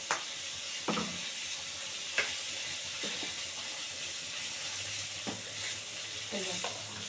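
Ground spice paste, a coriander-powder blend made without onion or garlic, sizzles steadily in hot oil in a pan for a fish curry, with a few sharp scrapes and clinks as a spoon stirs it, close and continuous.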